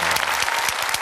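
Dense, steady applause from a concert audience welcoming mentor Seo Jin-gyu at a Korean talk-show-style event, many hands clapping loudly and continuously with no pauses.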